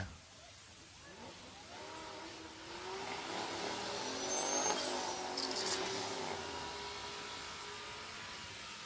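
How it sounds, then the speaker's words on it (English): A 1970 Mercury Cougar and a turbocharged 1975 Jeep Cherokee make a drag race pass. Engine roar builds and swells from a distance, then holds steady and trails off, with a faint high whine partway through. "This is going to be a matchup between Kyle Beaumont in the 70 Cougar, the Freddie Cougar, Greg Huizenga on the right-hand side in the 75 Jeep"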